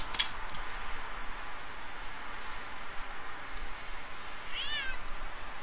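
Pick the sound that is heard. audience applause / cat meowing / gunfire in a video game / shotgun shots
cat meowing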